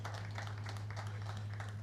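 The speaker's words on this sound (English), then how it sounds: "Please, a round of applause for that wonderful speech." Applause for a speech at an official event, a soft, steady patter of clapping heard at a distance over a constant low hum, with murmured voices underneath.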